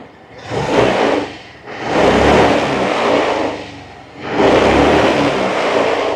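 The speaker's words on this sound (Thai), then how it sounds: "ลองดูจากตอนที่ผมบิดนะครับ" A second-hand Yamaha Grand Filano Hybrid ABS scooter engine revved by twisting the throttle, three loud surging revs rising and easing off in a steady rhythm, close by.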